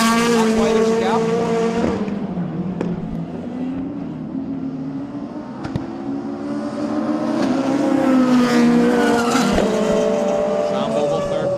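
Rallycross cars race at Mondello Park during a round of the British Rallycross Championship. Their engines roar and rev loudly and continuously, tires squeal now and then, and a commentator talks over the whole stretch.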